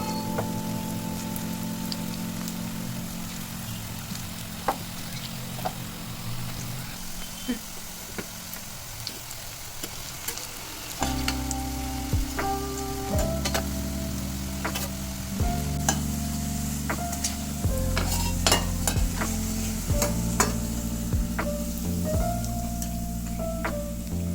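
Onion pakoda frying in hot oil, a continuous bubbling sizzle with occasional sharp crackles and stirring, loud and close, steady for the whole stretch.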